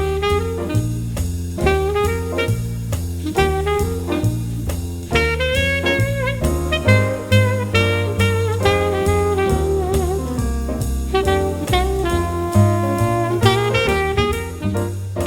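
A jazzy hold-music tune plays alone as an instrumental, with a walking bass line under bright melodic and chordal phrases at a steady, relaxed tempo throughout.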